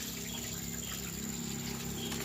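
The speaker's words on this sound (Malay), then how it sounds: "water pump yang saya gunakan adalah water pump Sobo" A Sobo 40 watt electric water pump runs steadily in a tilapia pond, giving a continuous low hum with faint watery trickle throughout, fairly quiet and unchanging.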